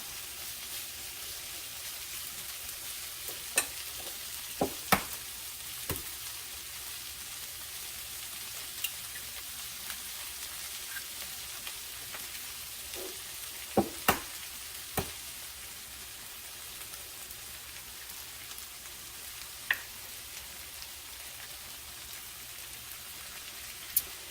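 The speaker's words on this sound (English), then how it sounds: "we're going to let those eggs simmer here until they are thoroughly cooked" Eggs fry in a little oil in a skillet with a faint, steady sizzling hiss, broken by occasional sharp pops and ticks spread across a long, quiet stretch with no talking.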